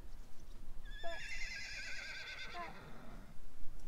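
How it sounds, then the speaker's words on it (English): A horse gives a long, quavering whinny at a moderate distance, rising and trailing off over a couple of seconds, while a person briefly speaks nearby. "I know those are the horses now."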